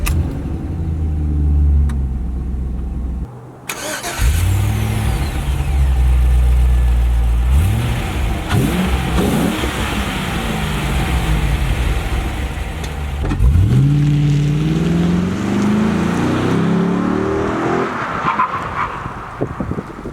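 An LS-swapped Jaguar with a full custom exhaust cranks and fires, settles into a rumbling idle, then revs hard several times with rising and falling sweeps. The engine is loud and close throughout, with no voices.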